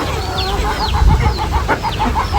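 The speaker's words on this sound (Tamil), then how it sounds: "நம்ம கோழிக்கு புறாக்கு எல்லாத்துக்கும் தீன் போட்டேன்" Chickens cluck in short repeated bursts as they peck at rice grain scattered for them, close and fairly loud against a faint background hiss.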